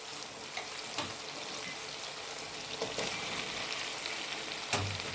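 Onions sizzle and fry in a hot pan while being prepared for homemade beef shawarma, a steady crackling hiss with occasional sharper pops and stirring scrapes, close and alone.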